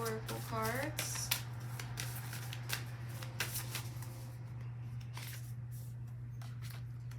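Moon oracle cards being shuffled in a close-up tarot-style reading, a soft papery riffle running steadily over a constant low electrical hum, with a brief tone-like sound at the very start.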